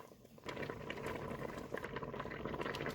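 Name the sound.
Concord grape jam boiling in a pot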